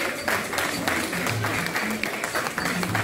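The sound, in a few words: audience applause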